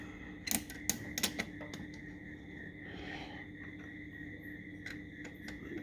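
Metal bolts going into an LS engine's cross ram injection fuel rail, a handful of sharp close clicks and taps in the first second and a half, then quiet work with a faint steady hum.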